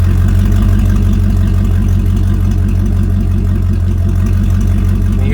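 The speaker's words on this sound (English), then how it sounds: "You hear the RPM kind of climb back up" A 1999 Dodge Durango engine idles loudly and steadily up close, a constant low rumble with the revs easing slightly upward.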